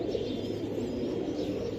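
Pigeons cooing in a steady, soft, continuous murmur among show-quality birds at a breeder's pigeon collection, with no talking over the sound.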